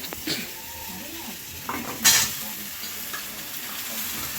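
Vegetables frying in a pot give a steady, moderate sizzle while a spoon stirs them, with occasional metallic scrapes and a sharp clatter midway.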